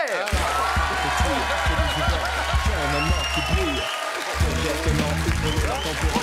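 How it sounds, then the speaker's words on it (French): A French television studio audience claps loudly and steadily for a politician's entrance, a continuous roar of hands with scattered cheers, while a low musical hum plays throughout. "Je vous demande un tonnerre d'applaudissements pour Christophe Castaner."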